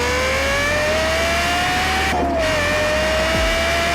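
A 2007 Volvo S80 V8 engine with a custom exhaust drones steadily, its pitch climbing gradually, then briefly dipping before settling into a loud, continuous exhaust note.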